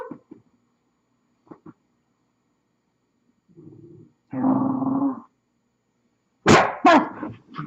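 A young puppy growls and grumbles in short bursts close by, with a couple of tiny clicks first, then two louder rough vocal outbursts toward the end, no talking.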